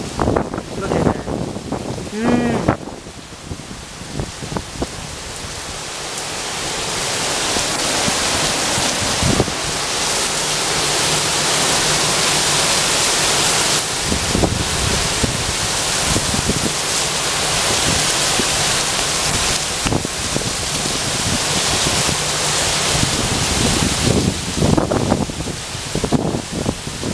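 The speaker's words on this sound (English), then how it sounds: "It is raining really hard right now." Heavy rain pours hard with wind blowing it about, a loud continuous broadband hiss that swells and stays steady for most of the stretch, with a few faint knocks and rustles at the start.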